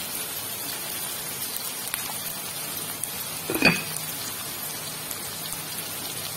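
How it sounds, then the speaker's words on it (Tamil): Onions sauté in a pan for dried-fish thokku, giving a steady, even sizzle like light rain throughout, with one brief louder crackle near the middle and no voices. "வெங்காயம் வதங்க"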